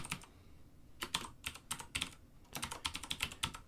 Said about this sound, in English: keyboard is awful clicky, right?